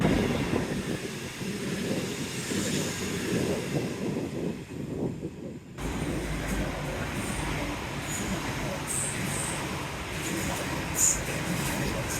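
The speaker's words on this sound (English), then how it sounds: "I did see 4 trains, so here they are." A Babbacombe Cliff Railway funicular car rumbles steadily along its track outdoors, with gusts of wind buffeting the microphone throughout.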